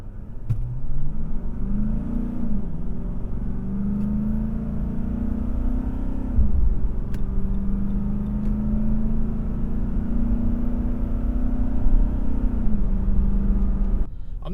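Deep diesel rumble of a 2017 Nissan Titan XD Platinum Reserve with a Cummins diesel accelerating hard from 0 to 60, heard from the cabin with repeated rising revs and pauses between gear shifts.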